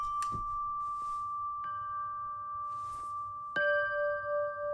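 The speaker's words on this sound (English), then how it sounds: "This is one of the motion bell patches." A synthesizer motion bell patch sounding single held notes, bright bell-like tones with sustained shimmering overtones ringing out, a fresh note struck near the end, faint and alone with no talk.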